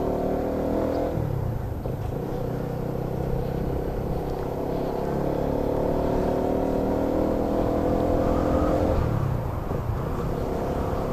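A motorcycle engine runs steadily nearby with a continuous droning hum, pitch easing up and down slightly as it idles and revs gently over about eleven seconds.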